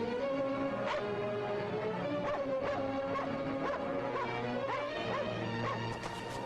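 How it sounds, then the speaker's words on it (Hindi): A dog barks in short bursts with yips and whimpers, mixed into a busy movie scene aboard a ship with music and other loud sounds. "कुत्ते को आने मत दो।"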